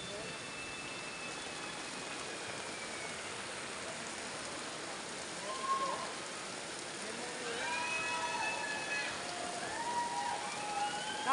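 Heavy rain pours down at a seaside play area: a dense, unbroken hiss that swells slightly partway through, with faint voices and calls far off in the background.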